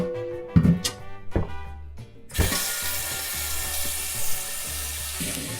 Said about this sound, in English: you're gonna grab your pot and you're just gonna fill it up